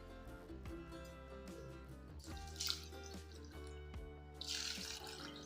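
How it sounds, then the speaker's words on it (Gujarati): Water runs and drips into a pot with splashy bursts, over a steady musical background; no one speaks. "તો આપણે એની અંદર બે વાટકી જેટલું પાણી નાખ્યું છે"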